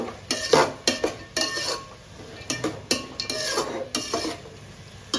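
A tempering of tomato, peanuts and green chillies being stirred and fried in a pan, with a rhythmic series of spoon scrapes and knocks over a low continuous sizzle, close and alone without speech.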